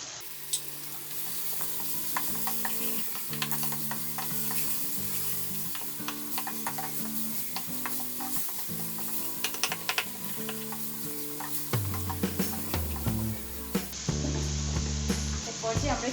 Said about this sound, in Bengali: এখন এই পর্যায়ে আমরা এখানে টমেটো পিউরিগুলো দিয়ে দিচ্ছি।